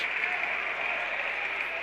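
At a high school basketball regional championship game, a crowd applauds and cheers in a steady, sustained wash of clapping as a player fouls out.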